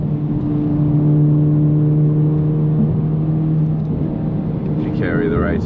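A Honda Civic Type R FL5 racing car engine holds a steady droning tone under throttle in a video game, loud and continuous, with the pitch shifting near the end.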